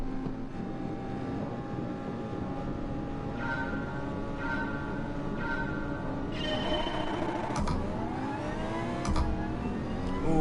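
An Audi Gr.3 race car in Gran Turismo Sport accelerates on the Dragon Trail circuit, its engine note climbing steadily through the gears, with rising and falling whines that shift sharply near the end.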